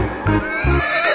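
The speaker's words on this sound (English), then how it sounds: "horse" A horse whinnies in a single loud, close, quavering neigh lasting about a second, with low thumps underneath.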